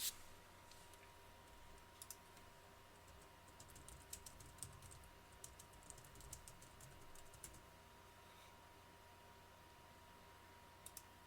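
Quiet, irregular keyboard typing clicks in short bursts, close up, over a low steady background hum.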